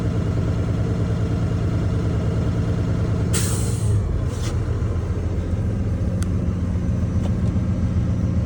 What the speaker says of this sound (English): When you hear the engine sneeze, that means your governor has filled up.